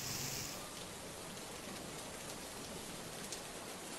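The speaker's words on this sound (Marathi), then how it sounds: "ठाण्यात मुसळधार पाऊस सुरू असून मुख्य बाजारपेठेत पाणी तुंबलंय" Heavy monsoon rain pours down over a flooded market street in Thane, a constant dense roar of falling water that stays faint and even throughout.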